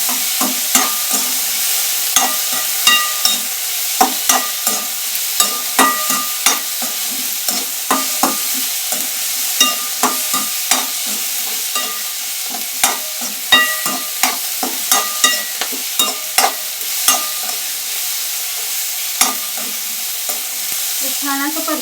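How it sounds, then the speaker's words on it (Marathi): Garlic and tomato are sautéed for kharda: a continuous sizzle runs under frequent, rhythmic scrapes of a spatula in the pan, close and clear, with no speech. "छान असं परतून घ्यायचं. जरासं टमॅटोचं मॉइश्चर कमी होईल"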